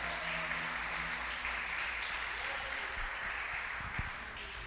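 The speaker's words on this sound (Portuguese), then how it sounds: "Se isso te anima, meu irmão, aplauda a Cristo nessa noite" A church congregation applauding during an evening service, a sustained, even wash of many hands clapping at a steady level throughout, with faint sustained tones underneath.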